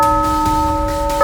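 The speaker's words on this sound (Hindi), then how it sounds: "3:17 पर घंटी की आवाज़ आई।" A steady bell tone rings and sustains, loud and close, with a faint ticking underneath, sounding alone with no voices.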